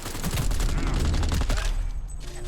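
Rapid bursts of rifle gunfire from the Cyberpunk 2077 video game, loud and dense with overlapping shots and a brief lull near the end.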